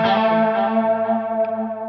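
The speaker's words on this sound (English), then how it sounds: "It's only the delayed repeats that have chorus." An electric guitar chord played through a Line 6 Helix delay sustains and slowly fades, its repeats shimmering with chorus while the dry attack stays clean.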